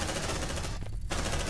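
Suppressive gunfire in Aliens: Dark Descent, a dense, continuous rattle of automatic shots with a brief dip partway through, steady and moderately loud, with no one talking over it.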